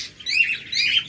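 A tame pet lovebird gives two quick, bright chirping bursts, close and clear with nothing else around it.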